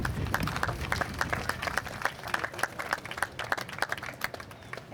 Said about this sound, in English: let's give our local politicians a round of applause